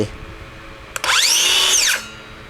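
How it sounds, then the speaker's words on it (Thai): A Stanley FatMax SBC550 circular saw whirs up sharply after a click, holds a loud, high whine for about a second, then spins down and stops. "เลื่อยถึงจะทำงาน"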